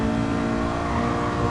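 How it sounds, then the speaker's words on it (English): A race car's engine revs in the racing game GT Sport, a steady, loud, droning engine note held for a moment with no talk over it; the car seems to have something wrong with it. "You can hear it in the sound of the engine as well."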